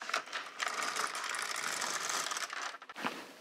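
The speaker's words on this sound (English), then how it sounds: "I'll knit 6 rows and then decrease." An LK 150 knitting machine carriage being pushed across the needle bed to knit rows of a slipper sock, producing a close, continuous clicking, ratcheting mechanical clatter that pauses briefly near the end.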